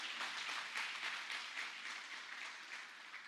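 A church congregation claps at a distance during a sermon, the applause faint and diffuse, a soft wash of hands that rises and falls slightly and carries no voices over it.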